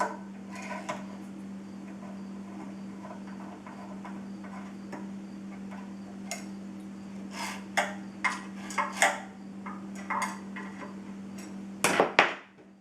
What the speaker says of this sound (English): I'm just putting these bolts in at the moment, just barely snugging them, just enough to pull them up tight to the plate.